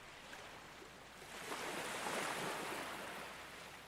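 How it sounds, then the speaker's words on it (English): Beach ambience layered in as a water texture in a song: a continuous soft wash of surf that swells in the middle and eases off again, with no voices. "a big component of this song is water, so I have this beach ambience as well"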